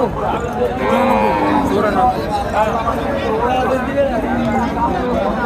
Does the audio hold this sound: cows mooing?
yes